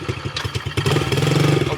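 A pit bike engine idles nearby with a rough, uneven putter, then settles into a steadier, slightly louder chugging rhythm, with no talking over it.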